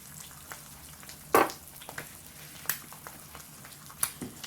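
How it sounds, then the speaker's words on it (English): An egg fries in leftover bacon grease in a pan with a little salt and pepper, giving a steady close crackling sizzle with sharper pops and spatters breaking through at intervals. "See how my egg is cooking up?"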